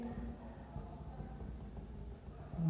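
Handwriting during a maths lesson, a soft continuous scratching of writing on a board or page under steady room noise, fairly close and low in level, with a voice speaking briefly.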